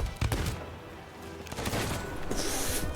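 Cannon deck shots in Sea of Thieves, several sharp blasts in quick succession amid ship noise and a steady rumble, no talking.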